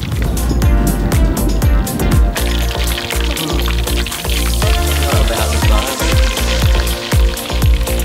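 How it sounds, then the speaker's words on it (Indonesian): Loud, steady sizzling of tilapia (mujair) deep-frying in hot oil, with crackles and pops throughout and occasional clatter of utensils. "Di sini udah tinggal goreng ikan"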